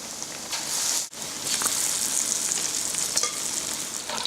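Beer-battered fish sizzling steadily in hot oil, a dense, close crackling hiss that runs almost continuously, with one brief dip near the start.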